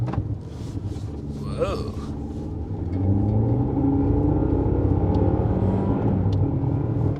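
A Honda CR-V Hybrid pulls away from a standstill on a snowy road in normal mode, its engine hum swelling into a louder steady drone heard from inside the cabin, with a brief exclamation from a person.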